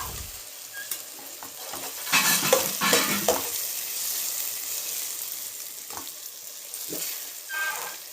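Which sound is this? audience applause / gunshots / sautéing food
sautéing food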